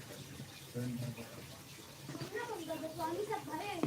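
A water tap runs with a soft steady splash indoors during a live folk song session, while a voice speaks over it.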